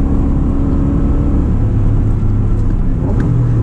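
An Acura NSX engine with manual transmission drones steadily and loud, its pitch rising and falling slightly as the revs are blipped during heel-toe downshifts, with no talking over it.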